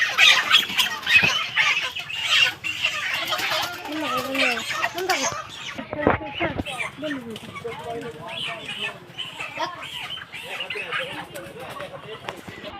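Many chickens cluck and squawk loudly nearby, a busy flock noise with a brief flurry of wings and people talking underneath.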